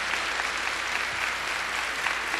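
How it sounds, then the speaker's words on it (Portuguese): A church congregation applauds during a Catholic priest's sermon, a dense, even wash of clapping that holds steady for a couple of seconds with no voices over it. "Pode aplaudir, porque isso é verdade"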